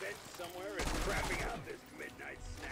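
Gunfire from the Black Ops 6 Zombies video game, a dense burst of game shots and effects filling the clip with game sounds, with a voice briefly heard over it.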